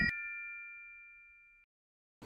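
A single bright notification bell ding rings out clearly and decays for about a second and a half, then goes silent before a voice begins.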